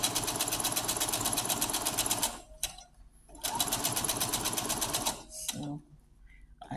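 A sewing machine stitches a neck pillow in two fast bursts of rapid needle chatter, each about two seconds long and separated by short pauses, heard close up with small handling sounds between runs.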